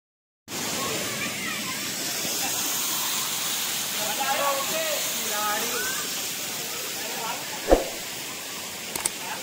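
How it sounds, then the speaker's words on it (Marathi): Waterfall near Bhavali Dam at Igatpuri flowing in the monsoon season, a steady broadband rush of falling water heard from close range, with brief voices and a couple of sharp knocks over the constant roar. "छान असा धबधबा आहे, मोकळा परिसर आहे"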